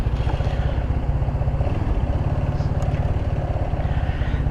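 A GY6 150cc scooter engine fitted with a new exhaust idles at about 1,500 RPM, a close, loud, steady rapid putter with slight unevenness in its beat.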